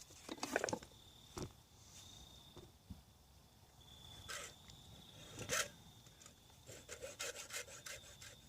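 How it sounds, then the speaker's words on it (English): Metal file rasping copper fittings on a Camillus M3 trench knife, in short irregular strokes with brief pauses between bursts, fairly quiet and close, no talking. "And more filing. More filing."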